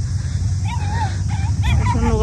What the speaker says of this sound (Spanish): Están los perros mechándose